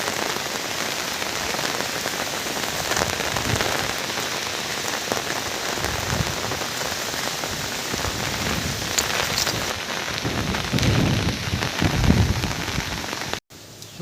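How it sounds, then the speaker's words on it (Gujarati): Heavy rain pours down steadily in Somnath over flooded roads and a swollen river, a dense, close hiss of drops that holds unbroken for the whole stretch, with no one speaking. "હજી પણ વરસાદ ચાલુ છે"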